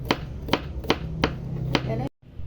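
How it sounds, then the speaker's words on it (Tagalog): A knife chops winged beans (sigarilyas) on a board in a home kitchen, five crisp evenly spaced taps close by, followed by a brief silence. "tapos na ako maghiwa"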